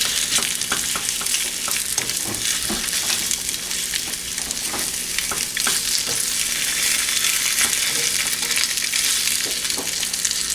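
Rosemary-garlic potatoes frying in a pan, a loud continuous sizzle close by, broken by scraping and clattering as the potatoes are tossed and stirred.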